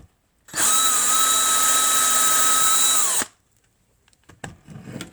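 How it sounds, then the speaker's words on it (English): A power drill bores down through wood to firm up the base of a Titanic wreck model diorama, giving one loud, steady whine of a few seconds, followed by faint handling clatter. "And I'll drill this one down."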